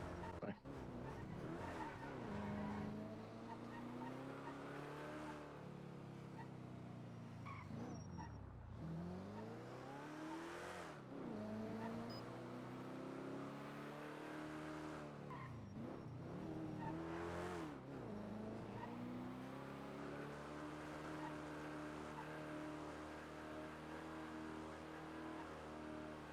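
A car driving in a GTA roleplay video game revs up and down repeatedly, its engine pitch climbing and dropping through gear shifts with a hint of tire squeal, steady and close with no talk.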